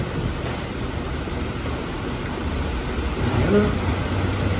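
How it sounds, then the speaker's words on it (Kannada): Steady rain pours down outdoors as a continuous, moderately loud hiss, with a low rumble beneath that swells slightly toward the end. "ಈಗ ಮಳೆ ಬಂದು ನಮ್ಮ ಬರಗಾಲನೆಲ್ಲ ಹೊರಗಾಕಿದೆ"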